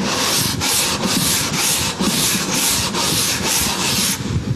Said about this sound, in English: Do a little bit more sanding.